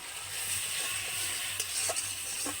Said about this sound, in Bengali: সমস্ত গুঁড়ো মশলা আবারও কিন্তু আমি এক মিনিট মতো নেড়ে নেব